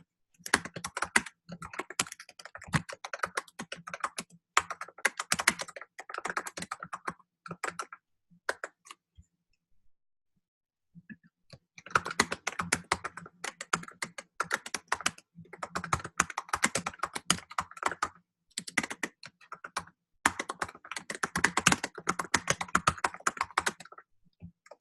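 Bursts of rapid typing on a computer keyboard to fill in form fields, dense clicking keystrokes in several runs separated by brief pauses and one longer silence, close and fairly quiet.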